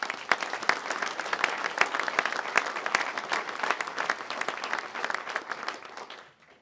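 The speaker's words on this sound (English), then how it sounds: "Please give them a round of applause." Audience applause at a county State of the County address, a steady dense crowd clapping for several seconds that fades out near the end, with no talking over it.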